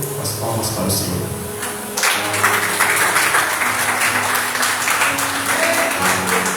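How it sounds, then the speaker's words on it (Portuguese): A church congregation applauds during a Portuguese-language service, with dense, steady clapping that swells louder after a brief opening and continues throughout, with voices mixed in beneath the applause. "as palmas para o Senhor"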